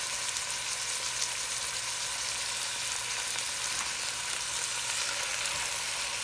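Ground meat sizzles and fries steadily in a pan while browning, a continuous close hiss with faint stirring, no talk.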